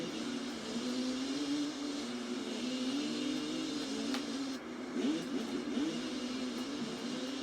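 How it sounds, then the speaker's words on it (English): An ATV engine in the video game ATV Off-Road Fury 4 hums steadily, then gives a few quick revving blips and rising whines, moderately loud with no voices. "I love the little revs you can do"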